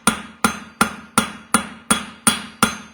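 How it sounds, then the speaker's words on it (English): A plain hammer strikes a metal bar, eight sharp, ringing blows at a steady pace of about one every third of a second, close and loud with nothing else underneath. "I'm going to use a normal hammer, and I'm going to use the heel and I'm going to push it."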